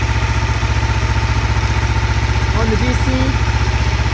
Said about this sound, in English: Now that we're idling